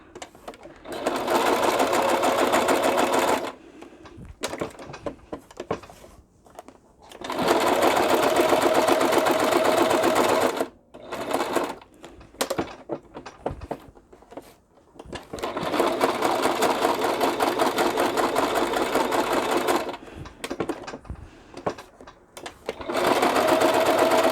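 A sewing machine stitches in long bursts after a needle repair, running loud and close for several seconds at a time, with quieter pauses and handling noises in between.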